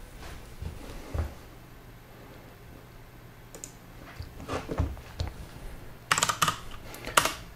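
Typing on a computer keyboard, with scattered soft key clicks early on and then quicker bursts of crisp, close keystrokes toward the end, against a quiet room.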